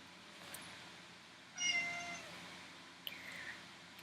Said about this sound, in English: My cat wants to be a part of this video.